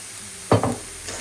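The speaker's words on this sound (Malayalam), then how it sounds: "ഇനി ഇത് ഒന്ന് ഇളക്കി പിടിപ്പിക്കാം എല്ലാം കൂടെ." A couple of quick scraping stirs in a pan over a soft sizzle of spices, turmeric powder and salt frying for a fish curry, close and brief, with no talk.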